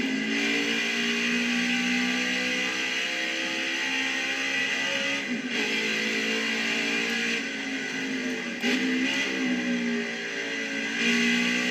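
A NASCAR race car engine in NASCAR Heat 5 revs loud and steady through a qualifying lap in Canada, its pitch rising and falling through gear changes over a continuous high-pitched drone.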